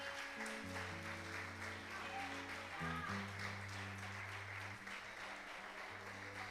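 A church congregation applauds during a sermon, a steady wash of clapping lasting several seconds under sustained organ or keyboard tones.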